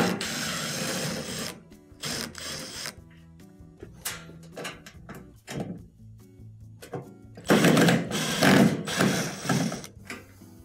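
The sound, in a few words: removing Phillips screws from console top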